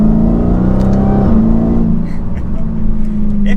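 A Dodge Challenger SRT Hellcat Redeye Widebody accelerates in third gear in manual mode, its engine a loud, steady roar that climbs in pitch, drops briefly at a shift, then drones on close by from inside the car.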